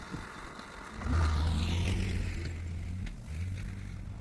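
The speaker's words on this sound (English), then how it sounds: "And I'll go park the tractor." A tractor engine rumbles as it is driven off to be parked. A low, steady motor drone swells up about a second in, then holds a constant hum with a slight dip before settling again.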